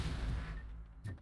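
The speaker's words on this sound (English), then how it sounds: "we'll just wait for this rocket barrage to finish." Rocket barrage explosions in the Robocop: Rogue City video game: low rumbling booms that roll on continuously, then a fresh burst near the end, loud and alone.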